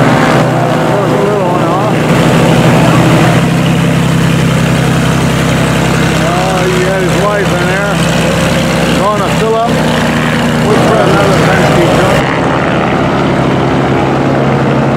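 A propeller plane's engine drones loudly and continuously nearby, its pitch wavering slightly, while a person talks over the steady roar.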